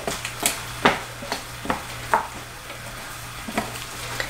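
A utensil stirs scrambled eggs in a hot pan, giving soft scraping strokes at an irregular pace over a faint sizzle.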